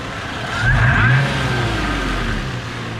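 Supercharged Toyota FJ Cruiser engine revs up outdoors, a steady mid-pitched drone that swells and briefly peaks with a whining rise before settling back to a sustained hum.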